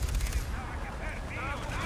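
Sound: gunfire in the video game Far Cry 3

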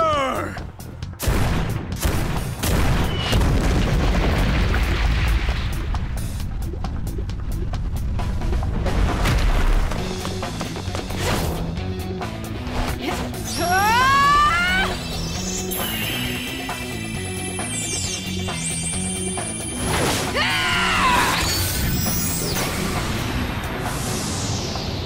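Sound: artillery fire in Persona 5 Tactica video game cutscene

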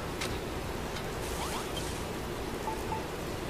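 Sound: rain in the video game Dragon Quest Builders 2

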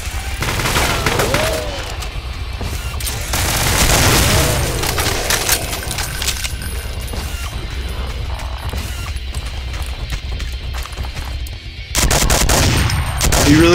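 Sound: gunfire from video game Brutal Doom, shooting pinkies

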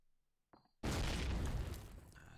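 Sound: grenade explosion in Call of Duty video game

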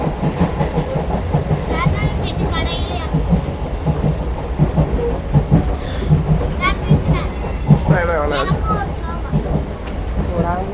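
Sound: moving passenger train

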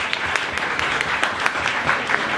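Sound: audience applause

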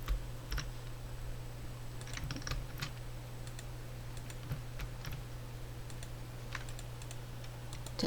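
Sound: pressing computer keyboard shortcut keys

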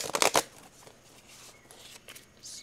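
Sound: shuffling a deck of tarot cards

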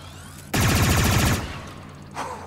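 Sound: mounted rotor gun shooting in Star Wars Outlaws (video game)

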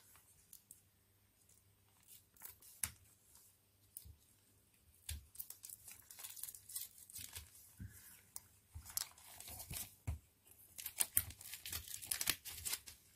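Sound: tearing open wrapping paper of a package

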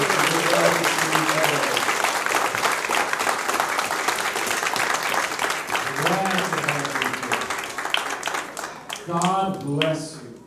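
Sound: congregation hand clap welcoming visitors

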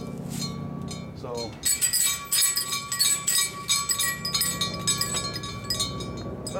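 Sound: homemade chime bells from gas cylinders with spring clappers

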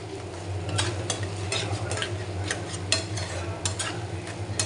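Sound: mackerel frying and stirring in masala

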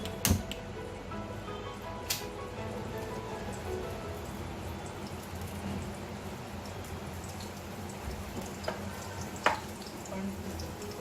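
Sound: chillies frying in hot oil

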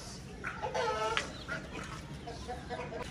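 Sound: pigeons moving about after being fed grain

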